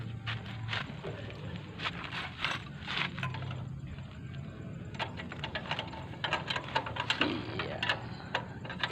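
A wrench turns the bolt and nut on a motorcycle gear set, giving irregular bursts of close metallic clicks and ratcheting taps over a quiet background.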